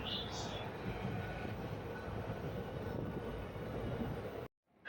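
Steady loud rumble and rattle of a fast train moving along tracks near Palakkad railway station, continuous throughout, cutting out abruptly near the end.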